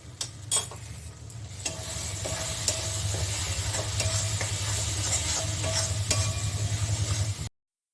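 Spice paste and chilli powder fry in a pan, a loud continuous sizzle with a low rumble beneath and frequent scraping clicks as they are stirred, before the sound cuts off abruptly.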